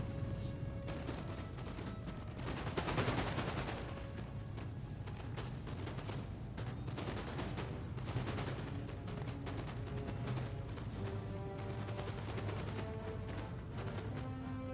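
Musket line volley fire in Empire Total War, with dense layered crackling shots popping continuously over a steady low battlefield rumble for the whole stretch, one heavier burst early on and no talk.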